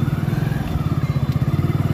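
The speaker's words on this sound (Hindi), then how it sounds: "चलिए इस साइड से हम लोग बाइक राइड करते हुए आपको लेकर चलते हैं" Motorcycle engine putting steadily with a regular pulsing throb throughout, heard up close while riding along a four-lane road near a flyover in Varanasi, with no talking.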